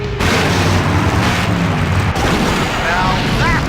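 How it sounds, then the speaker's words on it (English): A big explosion in the Full Throttle video game booms out loudly and rolls on as a dense, sustained roar of blast and debris, with a voice briefly audible in the mix. "Now that's an explosion, ladies and gentlemen."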